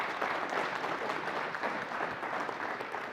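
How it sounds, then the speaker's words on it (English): Audience applause after a talk on organic weed management, a short burst of steady clapping from a small crowd, moderately loud and continuous. "let's give Gary a round of applause"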